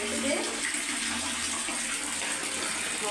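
Water gushes steadily and loudly from a tap with a loosened fitting, a continuous broadband splash filling the whole moment without pause.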